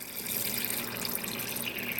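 Steady stream of cold water running from a kitchen tap into a sink, filling a container for cooling boiled eggs, a continuous close splashing rush with no talk.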